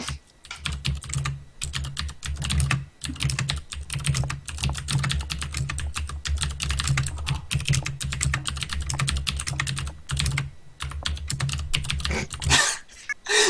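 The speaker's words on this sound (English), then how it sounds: "That mech keyboard, though." Rapid typing on a mechanical keyboard, close and crisp, with bursts of clacking keystrokes broken by short pauses and a few louder key hits near the end.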